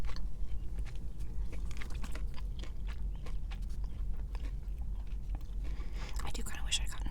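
Crunchy fried chicken from Raising Cane's being bitten and chewed close to the mic, with crisp repeated crunches and mouth sounds under a steady low background hum.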